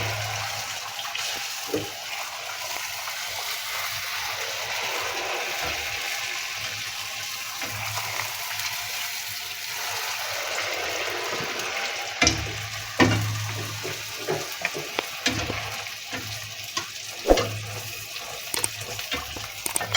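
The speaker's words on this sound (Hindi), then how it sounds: "अब हम इन्हें गरम ऑयल में फ्राई कर रहे हैं।" Pani puri deep frying in hot oil, a loud, continuous close sizzle with bubbling crackle that keeps going throughout, broken now and then by sharp clicks and taps as the puris are turned.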